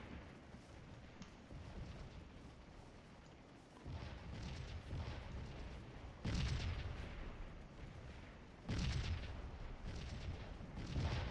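Artillery batteries firing in a Gettysburg battle of the Civil War game Scourge of War: a continuous rumbling cannonade with several heavier booming volleys that swell and fade, no talking.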